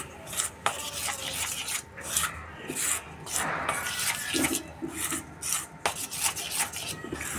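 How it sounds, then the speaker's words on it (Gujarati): Spinach dough for sev is mixed and kneaded by hand in a bowl, giving close rhythmic rubbing, squishing and scraping sounds with occasional light knocks against the bowl. "આ રીતે બધું મિક્સ કરવાનું છે અને લોટ બાંધવાનો છે"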